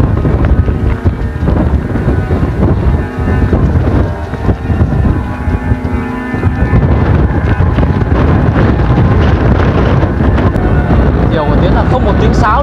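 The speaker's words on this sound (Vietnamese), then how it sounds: "Phiêu quá, gió này phiêu quá." Strong wind during a kite-flying contest with flute kites in a storm buffets the microphone in a loud, continuous roar, with faint whistling tones from the kite flutes carried through it.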